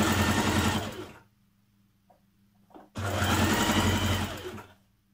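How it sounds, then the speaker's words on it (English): A home sewing machine stitches a long seam on a dress, running in two fast buzzing bursts close by with a short quiet pause and a small click between them. "with right sides together, we're going to stitch along this long edge with a 1 centimetre seam"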